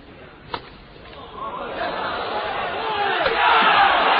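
A badminton arena crowd roars, swelling from a sharp hit into sustained cheering and shouting for Lee Chong Wei's powerful overhead smash in the 2011 Malaysia Open Grand Prix Gold semi-final against Sho Sasaki.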